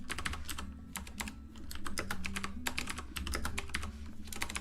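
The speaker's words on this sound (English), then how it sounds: "You probably hear my keyboard. It's a little bit noisy." Bursts of quick keyboard typing, clicky keystrokes coming in uneven runs with brief pauses, close by over a low background hum.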